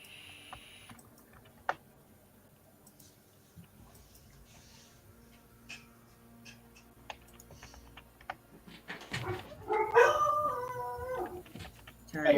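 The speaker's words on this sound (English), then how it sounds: "dogs are going nuts" Dogs barking and howling, first as scattered faint yelps and clicks over a quiet background, then rising near the end into a loud, close run of wavering howls and barks.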